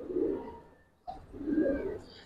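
Giribaz pigeons, including silver bagha and green-necked birds, cooing nearby in two soft throaty bursts separated by a short pause, with no talk.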